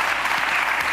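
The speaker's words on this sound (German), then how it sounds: "jetzt kann der Applaus kommen" Studio audience applause at the close of a German evening talk show, a continuous, even roar of many hands clapping at moderate level with no voices over it.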